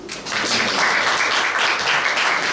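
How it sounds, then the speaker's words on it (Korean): Audience applause fills a Korean science lecture on Mars exploration after a student answers correctly, dense steady clapping from a crowd that holds loud and even for the whole stretch without speech. "다 박수."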